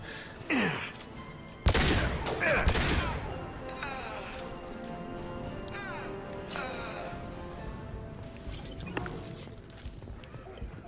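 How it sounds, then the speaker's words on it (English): Shotgun blasts in the video game Mass Effect 2, a few sharp, loud booms with crashing impacts amid busy game effects, fairly distant and muffled in the mix. "He's trying to shoot me with a shotgun."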